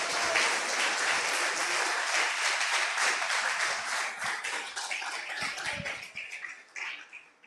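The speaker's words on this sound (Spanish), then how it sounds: "Denle un aplauso." Dense audience applause after a call to clap at a Christian church sermon, a steady wash of many hands that holds loud for about six seconds, then thins and fades out near the end.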